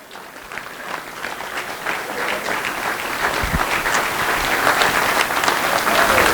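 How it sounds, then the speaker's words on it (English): A conference audience breaks into a round of applause that builds from moderate to full, dense clapping and holds strong through the end. "Give them a round of applause."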